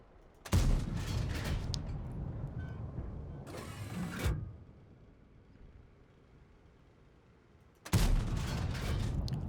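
In World of Tanks, a tank cannon fires at a 703 with booming, low-heavy blasts, one near the start and another near the end, with a rumbling mid burst between them.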